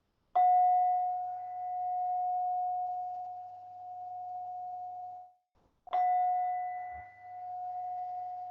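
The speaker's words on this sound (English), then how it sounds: "with the sound of the bell, we come towards the end of our practice" A meditation bell at the close of a mindfulness session rings out twice, each clear strike followed by a long, pure, slowly fading tone, with a quiet gap between the two.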